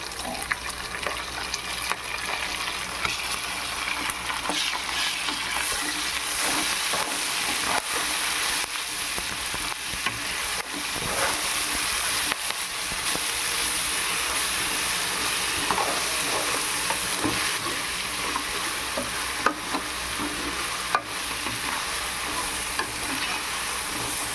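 Green chillies, ginger and garlic frying with onions in oil for prawn biryani, a loud continuous sizzle with scraping stirring strokes throughout, close and steady.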